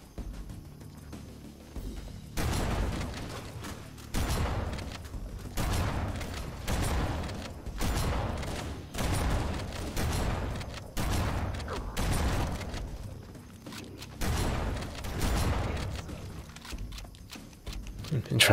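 Plasma weapons fire in Halo: CE Anniversary, a series of loud repeated bursts in a steady rhythm, each discharge cracking out over a low rumble, lasting throughout with brief gaps between volleys.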